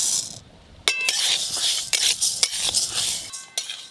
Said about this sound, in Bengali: 3 রকম ডাল আর গোবিন্দভোগ চাল শুকনো করাতে হালকা করে একটু নেড়ে নেব